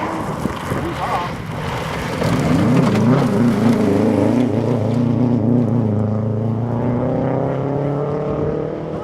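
A 2007 Subaru WRX rally car in the Super Production class roars through a stage corner at the Oregon Trail Rally, engine note rising and falling through gear changes as it passes and fades away.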